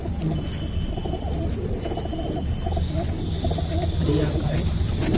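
A male pigeon coos softly amid steady background noise and other birds, with low murmuring voices nearby throughout.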